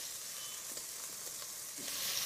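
Steady sizzling of a batch of meat browning in a pan for Lancashire hotpot, a continuous close hiss with a few soft stirring scrapes, no talking.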